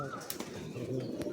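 Giribaz pigeons at a home loft give soft, low cooing calls close by, a few brief throaty phrases over quiet background with light rustling.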